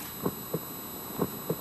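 Soft, muffled heartbeat thumps from a soothing toy imitating a mother's heartbeat, in pairs, a steady lub-dub rhythm repeating twice over a faint constant hum, gentle and close.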